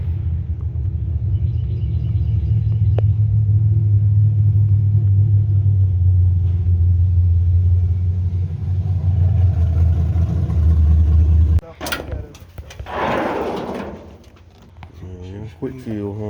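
A carbureted, nitrous-fed 6.0 V8 swapped into a backyard-built 1988 Chevrolet Silverado drones loudly with a steady low rumble for most of the clip, then cuts to a sharp rev burst and rough idle.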